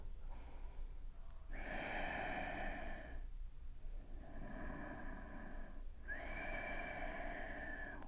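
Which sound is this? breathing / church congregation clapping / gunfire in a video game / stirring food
breathing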